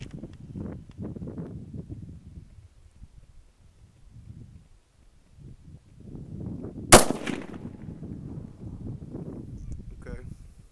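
A single sharp crack from a Stevens .223 rifle at an outdoor range during a seating depth test, standing out midway through low rustling and nearby talking.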